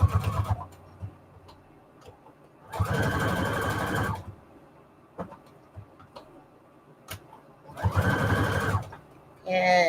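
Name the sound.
sewing machine sewing short straight stitch on fabric scraps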